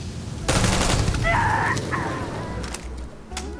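A burst of rapid gunfire from an 11mm round weapon in the video game Starfield, loud sustained shots with a whining mechanical tone in the middle, tapering into scattered pops.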